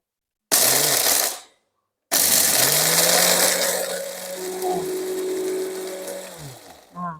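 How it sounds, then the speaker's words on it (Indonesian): An electric grinder runs in two bursts, first briefly and then for several seconds, with a steady motor whine that rises and shifts as it grinds food ingredients. It spins down at the end. "Ini kita langsung giling sedikit dulu aja."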